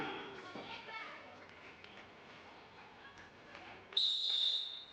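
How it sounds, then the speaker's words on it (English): A referee's whistle at a FIBA 3x3 women's basketball quarter-final in Cáceres, Spain, sounds as one loud sustained shrill blast near the end, rising above crowd chatter and children's voices in an outdoor arena. "There's the whistle."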